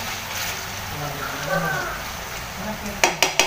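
Cabbage and other vegetables frying in a wok for pansit miki guisado, a steady sizzle under faint talk, with three sharp metallic clanks of stirring at the end.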